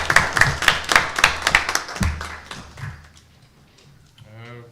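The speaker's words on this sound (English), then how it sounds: "please join me in a round of applause for thanking" Applause at a regular council meeting honoring military veterans: a run of distinct claps, fairly close, that fades out after about three seconds, followed by a little talk.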